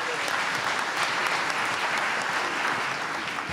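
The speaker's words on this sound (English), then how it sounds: "please give a big round of applause for our Cultural Arts Director" At an awards ceremony, an audience applauds steadily and densely, a full wash of clapping that holds at an even level throughout with no talk over it.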